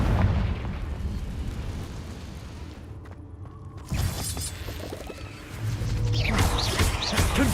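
Confringo blasting-spell explosions crash through a Hogwarts Legacy fight. A loud roaring burst opens the clip, the noise eases off, then a sharp blast hits and more rumbling booms and debris follow. No voices are heard.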